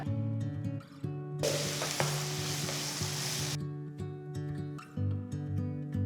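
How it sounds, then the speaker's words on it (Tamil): Steady sizzle of chopped onion sautéing in a pan, swelling into a loud hiss for a couple of seconds before settling back, with faint stirring scrapes. "பொடுசாக நறுக்கின ஒரு பெரிய வெங்காயம் சேர்த்து வதக்குங்க"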